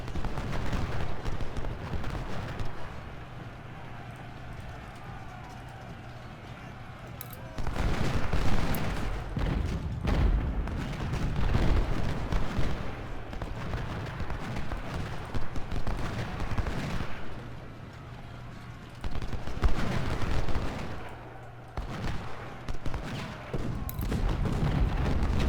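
Musket and cannon fire rolls on without pause in the Civil War strategy game Ultimate General: Civil War at the Battle of Shiloh. The dense crackling volleys and low booms swell and fade over a steady rumbling battle bed.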